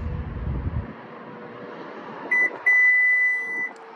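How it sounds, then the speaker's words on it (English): A 2021 Subaru Forester tailgate gives a short electronic beep followed by a longer steady beep as its memory height is set, clear and close over a quiet background after a brief low rumble at the start. "So you'll hear it make that beep."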